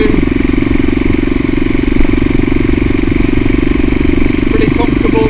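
A CCM Blackout motorcycle rides along the road, its engine a steady, loud drone with wind noise throughout and no pause in the sound.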